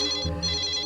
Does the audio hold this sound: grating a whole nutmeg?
no